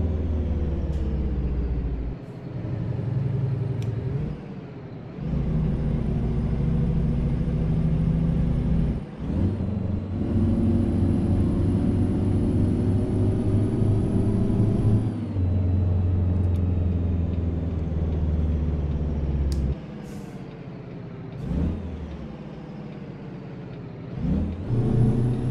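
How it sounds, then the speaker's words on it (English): Heavy engine of a modded Brockway FTG truck in a driving game, a deep steady rumble with harmonic drone that drops out briefly several times as the Jake brake and gear changes cut in, loud and continuous with no talk. "I wish the Jake break was a little louder."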